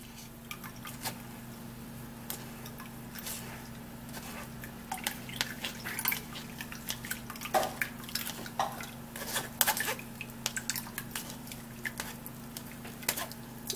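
Blended grape drink being poured through a sieve in a kitchen, soft drips and wet trickles with scattered light clinks of utensils, quiet and close over a low steady hum, no voices.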